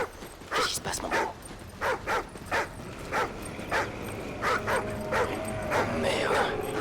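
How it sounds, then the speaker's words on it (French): A dog in the Call of Duty Ghosts video game barks and whimpers in a rapid series of short yips and whines, fairly close, with a voice talking over it in places. "Qu'est-ce qu'il fout, ce chien?"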